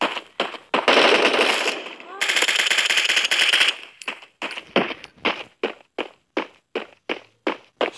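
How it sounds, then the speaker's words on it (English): Suppressive gunfire in an FPS video game: two long sustained bursts of automatic fire, followed by a regular string of single loud shots or footstep-like thuds, close and punchy. "веду огонь на подавление."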